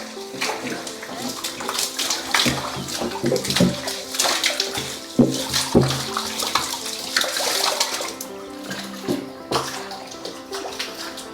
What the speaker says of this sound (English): We're pouring bleach.